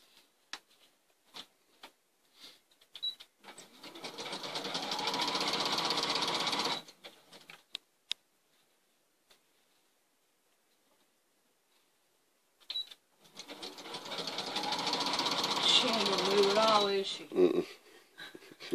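A sewing machine stitches the back of a guitar-themed quilt in two long, steady runs of close mechanical whirring, separated by a quiet pause with small clicks and handling sounds.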